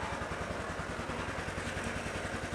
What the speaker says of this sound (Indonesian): saya nyalakan mesinnya biar lebih maksimal